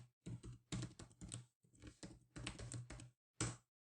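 Typing on a computer keyboard in bursts of rapid clicks with short pauses, ending in a single final keypress such as the enter key, close and clear with no talk.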